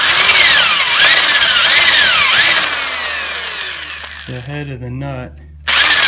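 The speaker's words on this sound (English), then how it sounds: "and then I'll use this spade drill" A power drill fitted with a spade bit whines and bores loudly into pallet wood, its pitch rising and dipping under load before winding down; someone speaks briefly near the end.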